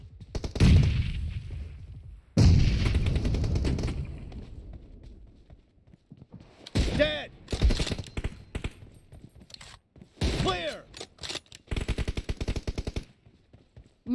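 Gunshots ring out in a battle royale shooter: loud close bursts of automatic fire early on, then several separate sharp shots and short volleys with quiet gaps between them.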